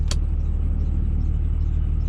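A pickup truck's engine idles steadily with a low, even rumble, close and continuous throughout, with a brief higher-pitched tick near the start and no talking.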